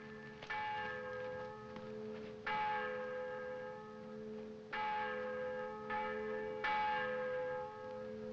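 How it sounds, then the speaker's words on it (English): Church bells peal in a steady cascade, each new stroke striking with a bright metallic attack and long humming decay, layered over a constant low drone; fairly loud and close, with no voices. "See if you can stop those confounded bells."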